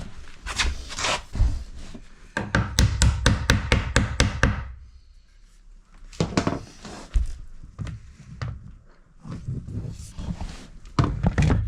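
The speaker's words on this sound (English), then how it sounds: "And then knocking in with a hammer." A series of sharp hammer blows knocking in nails in quick bursts, several rapid knocks, a pause, then more strikes, close by with some rustling between.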